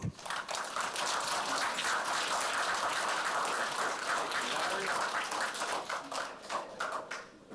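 An audience at a Chinese New Year celebration claps steadily for a supervisor, a sustained, moderately distant wash of applause that tapers off at the end.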